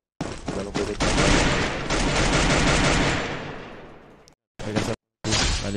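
Dense, rapid gunfire from a battle royale video game rattles continuously for about four seconds, then fades. Two shorter bursts follow after brief silent gaps, loud and close.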